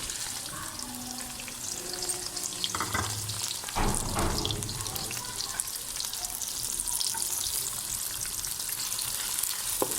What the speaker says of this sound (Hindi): अब हम इसी ऑयल में डालेंगे प्याज।